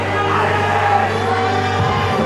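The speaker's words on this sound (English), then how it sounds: "Listen to the crowd. They've really woken up." A crowd at a women's bouldering semi-final in Prague cheers and screams, a loud, dense roar of mixed yells and whoops sustained for a couple of seconds.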